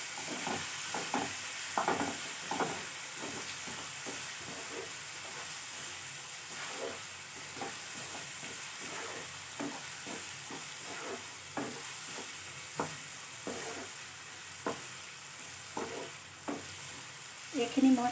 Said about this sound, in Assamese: এইখিনি মই 5 মিনিট ভাজি ল'ম।